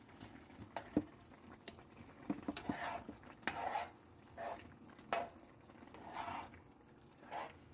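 A spoon stirs a thick honey garlic sauce mixed with ketchup in a pan, giving faint, soft scrapes and gentle wet sloshes with a few light clinks, all quiet and close.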